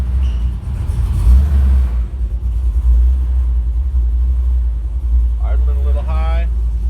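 A shop truck fitted with a new engine rumbles loudly as it pulls out and drives along inside a shop, a deep steady engine drone that swells early on, with someone talking briefly near the end.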